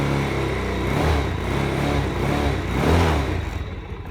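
A Venom 110cc–250cc motorcycle engine, freshly running after an oil change, revs up twice over a steady idle, with a buzzy, close, fairly loud note that swells and falls.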